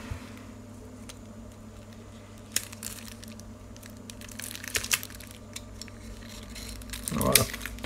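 A promo trading card pack wrapper being torn open by hand, giving scattered crinkles and crunchy plastic rips, with a louder tearing burst near the end, set against a steady low background hum.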